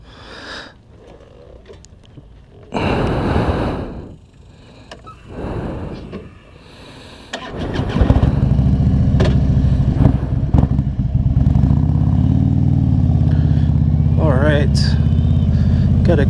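A 2015 Harley-Davidson Street Glide motorcycle engine starts and settles into a loud, steady, rumbling idle close by, after a few seconds of talk and rustling.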